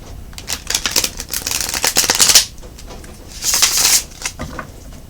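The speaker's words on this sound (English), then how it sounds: "Two more shuffles." A fairly new, stiff deck of cards is riffled twice, each a rapid, crisp flurry of flicking cards, close up, with a short pause between the two shuffles.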